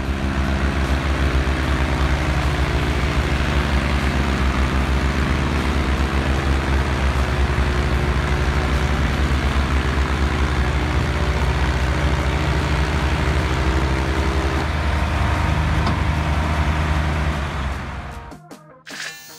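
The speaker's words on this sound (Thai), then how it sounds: "ทุกคนก็พร้อมสับเกียร์แล้วเหยียบคันเร่ง" Tractors rev their engines hard while hauling an enormous heavy load, a loud continuous low engine drone with steady harmonic tones that persists throughout, then cuts off abruptly near the end.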